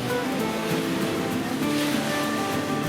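Sea waves wash beneath a raised over-water restaurant platform in the Maldives, making a steady, loud, continuous surf with no voices.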